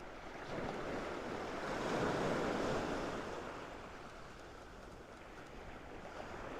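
Water moving at the shore, a continuous wash of surf swelling and easing over several seconds, steady and fairly distant with some wind rumble and no talking.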